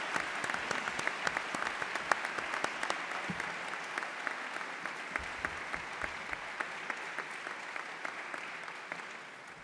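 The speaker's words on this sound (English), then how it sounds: "So, applause for them." A graduation audience at a master's degree ceremony applauds, with dense overlapping clapping and sharp individual claps standing out. It sounds moderately distant and slowly tapers toward the end, with no talking.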